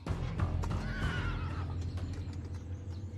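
A thoroughbred horse on a ranch whinnies loudly and close, one long descending neigh over a steady low rumble, with faint hoof clops and no talk.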